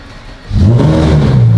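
A Ferrari 458 Speciale cold-starts after sitting for about ten days: a brief quiet stretch, then the engine catches and rises into a loud, steady idle roar.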